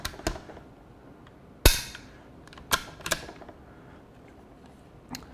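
A Timney trigger on a Ruger Precision Rimfire rifle dry-fires with a few sharp, isolated metallic clicks, close and distinct against a quiet background.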